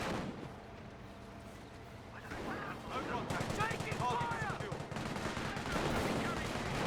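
Machine gun fire in the Company of Heroes video game, dense rattling bursts over a busy battle din with distant blasts, running continuously under a voice talking.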